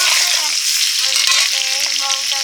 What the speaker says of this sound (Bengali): সেদ্ধ আলুটা ভেজে নিচ্ছি